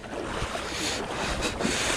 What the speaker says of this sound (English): I'm wading through the river.